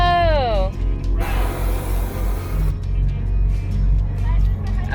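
Air suspension on a custom car with carbon fiber pieces hisses and whooshes as it lifts to ride height, at a vintage car show in Williams, Arizona, on Route 66. A steady rumble continues beneath the hiss, with people talking nearby.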